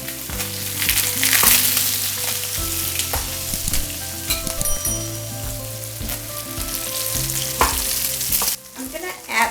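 Fish frying in a pan with butter melting in over lowered heat, a steady close sizzle with bursts of crackling and occasional utensil clinks, alone under faint background music.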